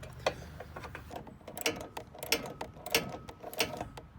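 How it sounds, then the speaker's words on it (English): Ratchet tightening a bolt on a heavy, solid mounting bracket for a jon boat, giving quick, faint clicking bursts in several short runs, close by with no talking. "Just a few quick turns of the ratchet and we'll have this thing in place once the bolt is tight."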